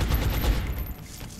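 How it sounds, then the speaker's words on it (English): Burst of gunfire in the video game XCOM: Enemy Within, a dense rapid volley with low booming thumps that holds loud for about a second and then thins out, with no talk over it. "Alright, so we'll go ahead and shoot him."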